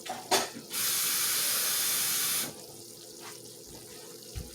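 Water gushes from a kitchen tap in a steady hissing stream for about two seconds, then shuts off, leaving quiet room sounds and a faint clink.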